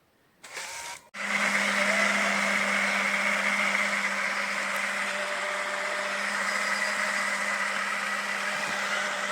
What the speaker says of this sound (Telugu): ఈ జ్యూస్ మిక్సర్ ఆన్ చేస్తే